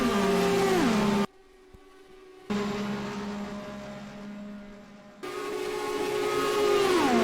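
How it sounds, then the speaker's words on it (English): An Indy race car in a video game with major engine problems after hitting the wall: a strained, whining engine note that cuts out abruptly, stays quiet for a few seconds, then returns sputtering and droning. "You hear there's some major engine problems."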